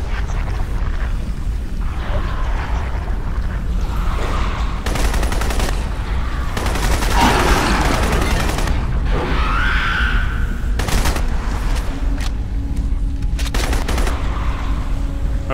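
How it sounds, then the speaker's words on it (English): Automatic weapon fire in the shooter game Crysis, played on maximum difficulty: repeated short and longer bursts of gunfire with heavy booming impacts, loud and close over a constant rumbling background. "I'm shooting you in the face."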